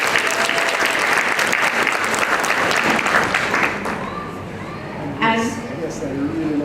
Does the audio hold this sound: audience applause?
yes